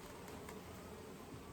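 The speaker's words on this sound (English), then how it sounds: "You can see little bees busy" Bees hum inside an open beehive during an inspection, a faint, close, continuous buzzing drone with no voices over it.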